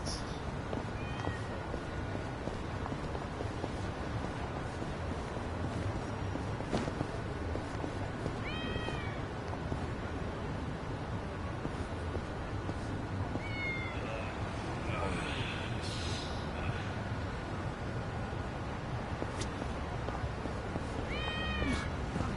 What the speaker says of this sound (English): Where's this freaking cat?